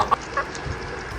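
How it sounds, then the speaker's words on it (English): A chicken clucks in a few short, sharp bursts close by, with brief pauses between calls and only a soft background hiss otherwise. "It's a chicken."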